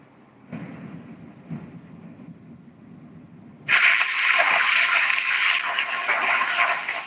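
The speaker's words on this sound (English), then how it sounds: "It's right on a little creek / river / tributary." A small mountain creek flows beside a campsite, its steady broadband rush swelling in suddenly halfway through and staying loud and continuous, with quieter rustling and low handling noises before it.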